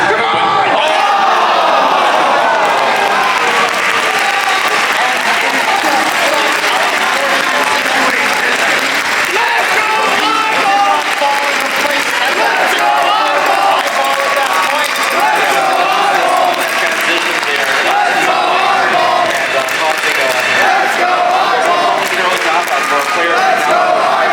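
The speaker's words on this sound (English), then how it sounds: "We get a huge round of applause to IBall and Meme for a fantastic semifinals match." Sustained, loud audience applause with crowd noise and scattered cheering at a Classic Tetris semifinal match at a gaming expo, continuing steadily throughout.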